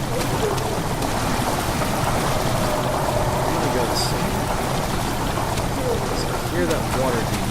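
Flowing water in the video game Amnesia: The Dark Descent, a loud, steady rushing wash that fills the whole stretch with no pause, with only faint extra noises on top.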